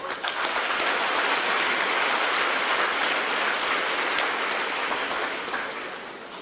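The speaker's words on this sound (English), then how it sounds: "Why do I get the feeling that the clap was very muted?" Muted applause from an audience at a public address, steady dense clapping throughout that fades slightly toward the end.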